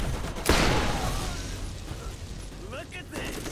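Turret gunfire in the Borderlands video game erupts in a loud burst, then rattles on with mechanical clatter and a whirring sweep, while players talk over it.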